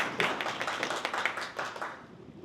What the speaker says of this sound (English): it's always good to get applause before you speak